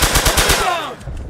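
A loud, rapid burst of submachine gun fire in a video game, several quick shots in a row, trailing off into a short swooshing tail.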